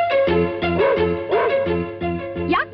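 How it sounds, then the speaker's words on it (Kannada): A dog barks in a short run of repeated yips and bow-wows, close and loud over a tonal music bed, with a rising whimpering note near the end. "ಬಹಳ ದಿನ ಆಯ್ತಲ್ಲ, ಅದಕ್ಕೆ ಬೊಗಳ್ತಾ ಇದೆ."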